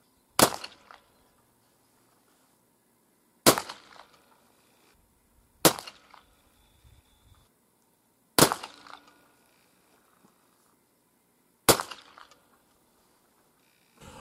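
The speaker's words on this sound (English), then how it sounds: "for these five shots, I got rid of the spacer and I increased my powder charge to 30 grains." A .50-caliber muzzleloading rifle loaded with a 30-grain powder charge fires five separate shots outdoors, each a sharp crack followed by a short echoing tail, spaced roughly two to three seconds apart.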